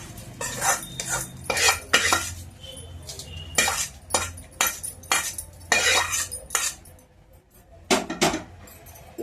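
A metal spoon stirs tamarind rice (pulihora) in a pan, making repeated clinks and scrapes against the metal in an uneven rhythm, close and clear, with a faint voice now and then.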